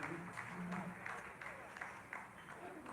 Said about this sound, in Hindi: आप इस तालियों के गड़गड़ाहट को सुन सकते हैं जो कि सेकेंड हाइब्रिड फेज के